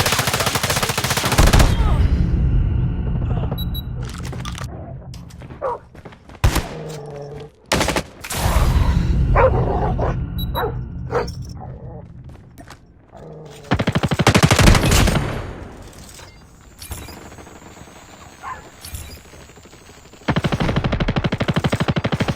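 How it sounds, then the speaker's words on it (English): An enemy sentry gun fires in a video game, loud close bursts of rapid automatic gunfire broken by short pauses and quieter stretches across the clip. "Enemy sentry gun"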